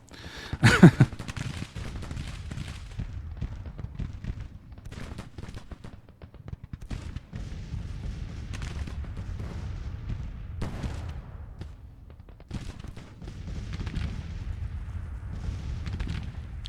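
Sustained Civil War era musket and cannon fire from a Grand Tactician battle crackles in ragged volleys. Sharp reports punctuate a constant low rumble of distant shooting.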